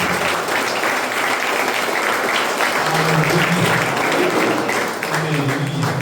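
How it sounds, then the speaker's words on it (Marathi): A church congregation clapping together to welcome Christ, a loud continuous patter of many hands with voices mixed in beneath. "आपण टाळ्या वाजवून ख्रिस्ताला स्वागत करू"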